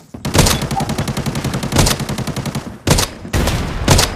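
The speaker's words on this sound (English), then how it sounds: "Shotgun." Rapid volleys of shotgun blasts in the video game Arena Breakout, loud and close, a fast rhythmic burst of sharp reports followed by two more heavy shots after a short pause, with no talk over them.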